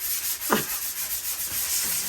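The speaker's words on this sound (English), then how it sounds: "A couple of days have passed, and it is now time for sanding" Sanding on the walls of a room being made over as a nursery, a soft continuous abrasive rubbing with a slight scrape, close and steady.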